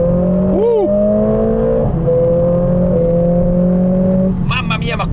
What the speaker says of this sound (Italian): Mamma mia, ma cosa spinge sto motore?